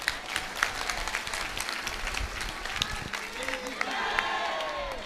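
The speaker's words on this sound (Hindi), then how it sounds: "अब ताली बजाओ।" An audience at a spiritual discourse claps continuously for a few seconds, a dense patter of many hands mixed with crowd murmur and a voice speaking over it.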